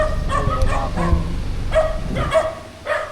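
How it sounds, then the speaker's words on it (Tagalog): A dog barks and yips repeatedly close by at a waterfall in Mauban, Quezon, several sharp barks spaced irregularly over a steady background rush of water. "Oh, may aso."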